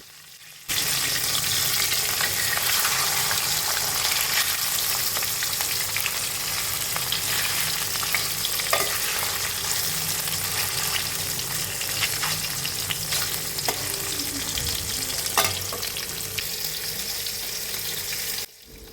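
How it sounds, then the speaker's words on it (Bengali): Hilsa fish pieces fry in hot oil with a loud, steady sizzle and crackle that runs unbroken for most of the stretch, close up, with occasional sharper pops and no talking. "তো এই যে ভেজে নিই মাছগুলো"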